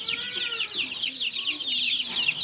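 Chickens cluck and chirp continuously at close range in a backyard coop, a dense, lively chorus of high calls with little else around.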